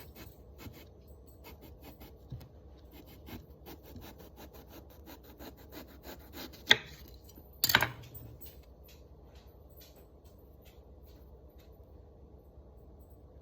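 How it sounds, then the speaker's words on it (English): A sharp knife slicing through food, quiet repeated rasping strokes in a steady back-and-forth rhythm, with two brief louder knocks partway through. "Taking a sharp knife and being extremely careful, I'm going to make the first slice"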